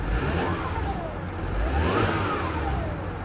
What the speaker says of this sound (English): Definitely hear the turbo. It's rattling under the hood